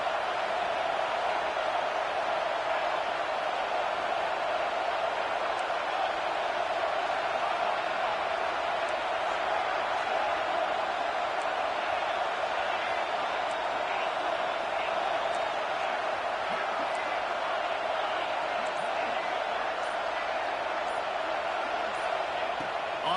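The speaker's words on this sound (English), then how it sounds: "This crowd rising up, sensing that its defense needs some help." A stadium crowd in a college football video game keeps up a dense, steady roar throughout at a constant level, without swells or breaks.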